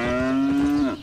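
A cow in the video game Albion Online gives a single loud, close moo lasting about a second, heard clearly on its own.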